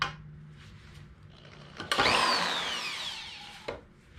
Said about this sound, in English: It's a plug-in drill.